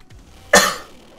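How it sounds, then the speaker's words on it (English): A single short, sharp throat clearing bursts out nearby, then fades quickly into quiet. "Had to clear my throat there."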